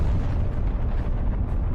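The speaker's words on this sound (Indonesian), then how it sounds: "Ledakan pun terjadi." A deep, rumbling blast with heavy low-end roar that sustains loudly throughout, no voices present.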